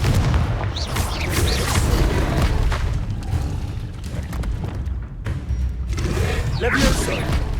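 In Hogwarts Legacy, Confringo blast spells boom repeatedly in a dense, loud stretch of thudding explosions and whooshes, with a voice talking over the combat.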